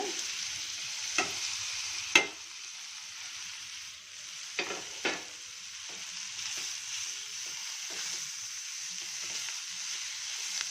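Grated knol-khol frying in a hot oil tempering for a poha breakfast dish, a steady soft sizzle running throughout with several sharp clicks of a spoon stirring against the pan, no voices.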